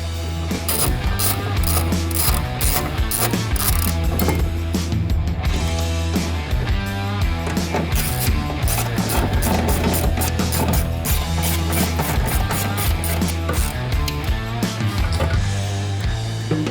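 A ratchet tightens bolts on a bulkhead accessory rail being installed on a 2015-or-later Ford F-150, giving quick, close, repeated mechanical clicking in bursts throughout with no talk.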